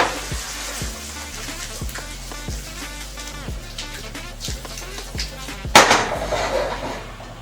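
Food sizzling and frying in a pan while being stirred, with regular scraping strokes roughly every half second and a louder clatter near the end, close and steady.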